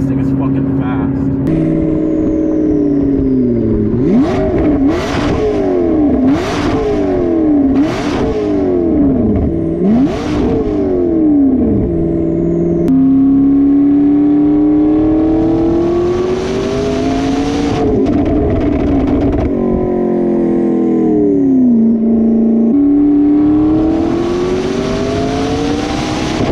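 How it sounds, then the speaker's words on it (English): A McLaren 650S with a custom center exit exhaust accelerates hard through repeated rising and falling gear-change sweeps, loud and close, with wind noise and a voice talking over parts of it. "So they installed their custom center exit exhaust for the 12 season, the 650s."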